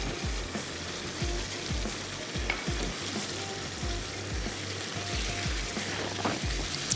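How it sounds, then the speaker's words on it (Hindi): Chopped onion, capsicum and green chillies fry in a hot kadai, giving a loud, steady sizzle with repeated scraping stirs throughout. "अब इसमें हम शामिल कर देते हैं ये वेजिटेबल्स, जिसमें प्याज है, साथ ही हमारे पास है शिमला मिर्च और हम इसमें ऐड कर देंगे हरी मिर्चें"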